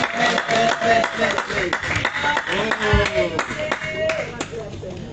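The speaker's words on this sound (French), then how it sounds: "On acclame, on acclame, on acclame. Acclame Jésus pour sa vie." A church congregation clapping in rhythm during a Sunday service, steady hand claps running under a voice talking and singing throughout.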